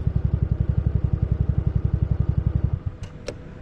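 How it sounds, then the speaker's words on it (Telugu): A TVS Ntorq 125 XT scooter engine idles with a steady, close, rapid throb, then cuts out abruptly near the end, leaving a couple of faint clicks. "చూశారు కదా, ఆటోమేటిక్గా ఇంజిన్ ఆఫ్ అయిపోయింది, కట్ ఆఫ్ అయింది."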